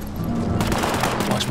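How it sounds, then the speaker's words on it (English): Gunfire rattles in the video game War Mongrels, a dense burst of rapid shots with a heavy low boom, loud and continuous over a short stretch. "The fuck they shooting at?"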